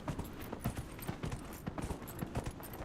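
Horse hooves clip-clop in a steady rhythmic gait in the video game Dragon Age Inquisition, quiet and close, with no talk over them.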